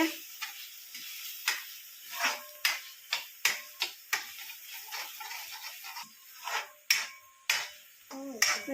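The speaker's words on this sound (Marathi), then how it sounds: "रिया आता इथं मसाला मिक्स करते." Masala being stirred into chicken in a metal pot, giving irregular spoon scrapes and clinks against the pot, faint and moderately spaced, with quiet cooking sizzle underneath.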